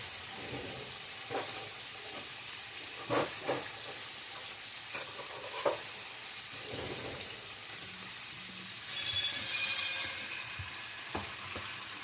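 Chicken deep-frying in hot oil at 320 degrees gives a steady, dense crackling sizzle, punctuated by scattered sharp pops and a few clanks of tools.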